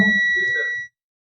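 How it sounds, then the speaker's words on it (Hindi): Continuity buzzer of a multimeter sounding while a line on a Vivo Y17 phone circuit board is probed, one steady high-pitched electronic tone close up that stops abruptly after under a second. "अगर बजर मोड में हम इसको चेक करें, क्या बीप दे रहे हैं, बीप आवाज आ रही है आपको"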